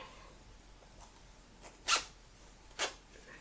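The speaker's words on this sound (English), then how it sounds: "Now it's time to zip it up." Two short, bright zipping bursts a second apart as a zipper on a crocheted pet bed is closed, quiet and close, with near silence around them.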